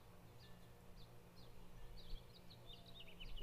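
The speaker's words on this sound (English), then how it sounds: "You can hear the birds." Small birds chirp outdoors in faint, quick, high tweets, sparse at first and then in a busier run of calls over a steady low background hum.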